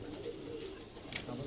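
High-flyer pigeons coo softly, a faint low warbling murmur in the distance that may have voices mixed in.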